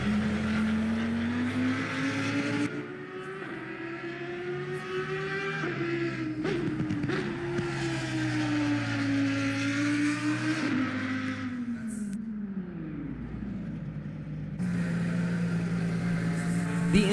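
Audi R8 race car engine at Zandvoort in a racing video game, a continuous loud drone with rising and falling revs through gear changes, heard alone.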